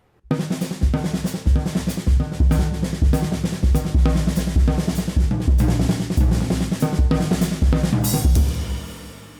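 Rapid paradiddle-diddle patterns move across the toms in a steady flowing stream, with deep thuds and cymbal sizzle underneath, loud and close.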